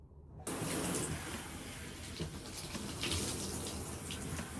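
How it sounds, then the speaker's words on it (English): Water from a faucet runs steadily and loudly as hair toner is rinsed off during a home hair-dyeing session, a continuous close gush with no talk. "now we rinse the toner off"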